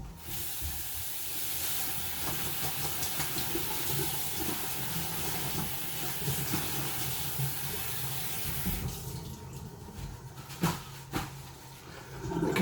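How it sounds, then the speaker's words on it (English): Freshly picked garden spinach leaves rinsed under cold running tap water: a steady, close rushing hiss fills most of the stretch, then the flow cuts off, leaving a few brief splashes and knocks. "Just going to give them a quick wash in the cold water."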